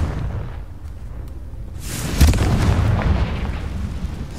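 A blasting curse detonates in a Hogwarts Legacy battle, a sudden loud, broad explosion about halfway through that rumbles on and tails off over a couple of seconds, with no talk during it.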